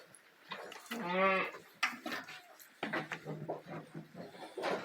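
A Chios (Sakız) sheep lets out one clear, wavering bleat during morning feeding of the flock, with other animal calls and murmuring voices around it.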